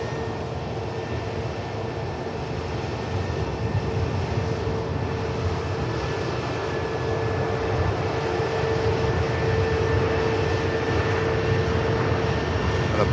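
Steady broadband rumble of an aircraft engine at Manchester Airport, a continuous, fairly loud drone with a faint whine on top that swells slightly partway through, with no talk over it.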